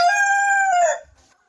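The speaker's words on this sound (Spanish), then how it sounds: "Escuchemos cómo cantan, ya esos son los cantos cuando una gallina va a poner un huevo." Several loud, close cackling calls from laying hens, a strained rising-and-falling vocal cry with harmonics, typical of a black hen announcing an egg, ending abruptly and leaving near silence.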